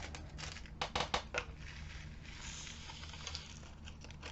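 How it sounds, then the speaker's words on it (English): Scissors snip and crinkle through a plastic bag at close range, a few short cutting and rustling bursts around the middle followed by quieter handling. "I cut the bag."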